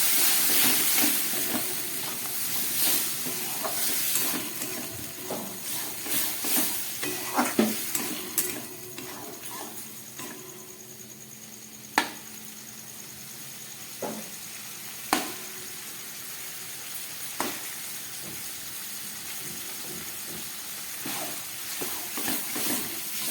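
Masala frying in a pan after boiled potato, peas and tomato go in, giving a steady hiss and sizzle with occasional sharp clinks of a spoon against the pan.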